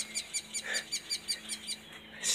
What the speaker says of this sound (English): Shit, I can let the birds narrate for me.